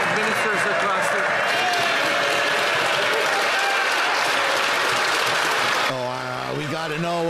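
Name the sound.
applause in parliament question period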